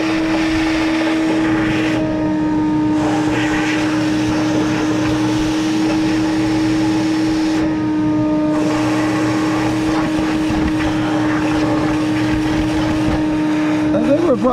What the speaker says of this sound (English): we need to vacuum all the water out of there